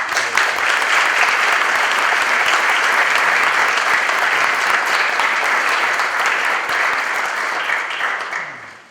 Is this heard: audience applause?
yes